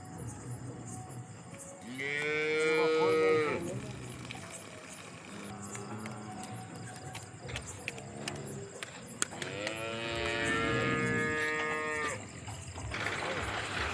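Cows on a farm moo loudly nearby in two long, drawn-out calls with a quieter gap between them, over a light background of rustling and clatter.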